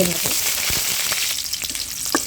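Food frying in hot oil in a wok gives a loud, steady crackling sizzle, with a few clicks of stirring over the short stretch.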